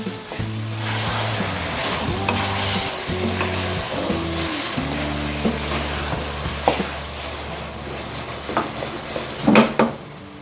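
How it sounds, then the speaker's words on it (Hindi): Minced beef keema frying in a pan gives a loud, steady sizzle close up, joined later by a few clinks and scrapes from stirring. A low steady hum runs underneath for the first several seconds. "अब इसका कलर चेंज होने तक हम इसको फ्राई कर लेंगे।"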